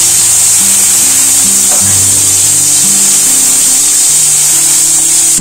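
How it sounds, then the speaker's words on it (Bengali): Melon seeds (char magaj) frying with curry leaves in hot oil, giving a steady, loud, continuous sizzle and hiss close up, with no talking. "হালকা করে একটু ভেজে নেব।"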